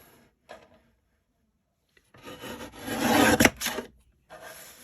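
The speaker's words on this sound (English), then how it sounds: "So I'm going to cut a little bit off the bottom." A paper trimmer blade slides across cardstock while trimming a handmade card, giving a brief tap, then a second-long rasping scrape close by with a short click at its end, heard alone without talk.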